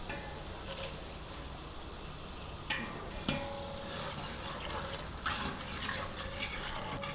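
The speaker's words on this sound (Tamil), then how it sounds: "இது நல்லா வந்து நமக்கு பொன் நிறத்தில் ஃப்ரை ஆனியன் அளவுக்கு நமக்கு ஃப்ரை பண்ணி எடுக்கணும்." Half a kilo of onions frying in ghee for chicken dum biryani, a steady moderate sizzle with occasional clinks and scrapes of a stirring utensil, heard close with no talking.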